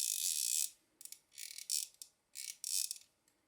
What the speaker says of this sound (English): we just reinstall our drag knob, spin that on. Tighten it down, back it up